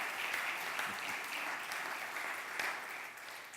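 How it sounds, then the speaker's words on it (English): Sustained applause from an audience at a 2017 State of the City address in San Gabriel: a dense, steady wash of clapping that holds for several seconds, with no talking over it. "I think that deserves some applause."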